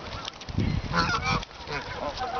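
Several hungry geese being fed honk repeatedly nearby, a noisy cluster of overlapping calls with brief pauses between bursts.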